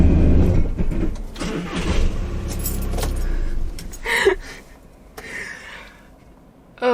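A van engine cranks and catches after stalling twice, a loud low rumble at the start that settles into a quieter idle, with a sharp mechanical rattle near the middle and a renewed surge at the end.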